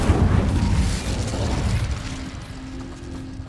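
Incendio fire spell cast in Hogwarts Legacy: a loud, rushing burst of flame that roars at once and slowly fades, then gives way to a low, steady hum.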